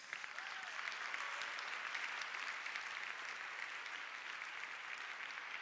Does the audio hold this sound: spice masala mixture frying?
no